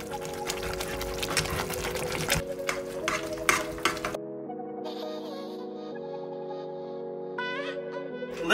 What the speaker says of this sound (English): Just gonna drop that in to the grits. We'll stir it around so it's nicely incorporated.